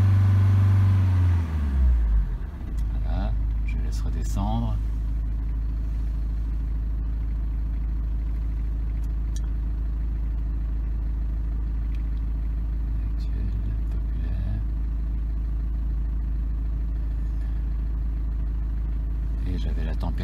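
A car engine with a power-loss fault in degraded mode is held at raised revs, a steady, loud, low drone that settles after a brief shift at the start and stays even afterward.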